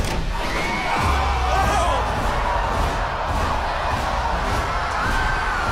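Contestants on a platform above piles of cash cheer loudly after a countdown, a burst of shouts and whoops from a group that keeps going at a steady high level.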